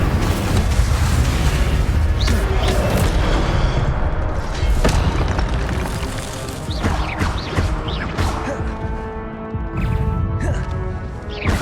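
Incendio fire spell cast in Hogwarts Legacy: loud, dense booming bursts and crackling impacts with layered game effects, steady throughout with sharp transient hits scattered across the scene.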